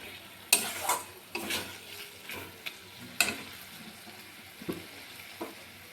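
Pumpkin leaf fritters (bora) frying in hot oil, a soft steady sizzle punctuated by several sharp clinks and taps of a utensil, fairly quiet with no talk.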